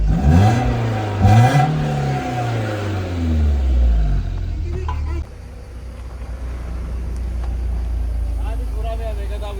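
A BMW E36 318iS four-cylinder with its factory muffler revs close by in rising and falling sweeps for about four seconds, then settles into a steady, deep idle drone.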